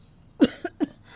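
Cartoon characters cough from smoke of burning food in a kitchen, three short close coughs in quick succession, with no speech over them.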